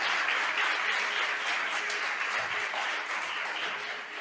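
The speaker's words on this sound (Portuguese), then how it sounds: "Você pode aplaudir o Senhor?" A church congregation applauds at a worship service, with steady, sustained clapping from many hands that stays fairly distant and even throughout and tapers slightly at the end.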